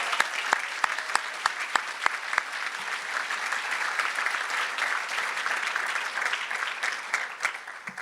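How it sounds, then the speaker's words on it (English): Audience applause at a dental school white coat ceremony, opening with a few distinct sharp claps that quickly swell into sustained, fairly distant crowd clapping, tapering slightly at the close. "let's give a round of applause to all those"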